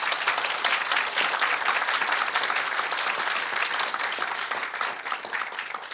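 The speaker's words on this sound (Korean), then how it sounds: "자, 다 같이 힘찬 박수로 시작을 하겠습니다." An audience claps energetically to open a research-institute talk concert, a dense, steady wave of applause filling the hall and easing slightly toward the end.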